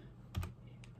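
A few quiet keystrokes on a computer keyboard, a quick pair of clicks followed by a single tap, faint and close with no talking.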